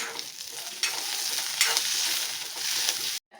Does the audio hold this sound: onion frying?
yes